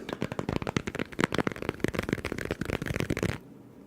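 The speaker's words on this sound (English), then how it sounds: "We're going to give it a nice little shuffle." A tarot deck is riffled and shuffled in quick, dense bursts of crisp flapping, close and loud, then it stops abruptly near the end.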